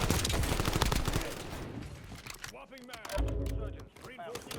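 Short bursts of tripod-mounted machine gun fire in Call of Duty Warzone crackle in the first seconds and then thin out, while a player talks over the quieter stretch that follows.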